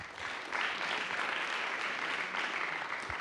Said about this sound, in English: A big round of applause for all of our judges, please.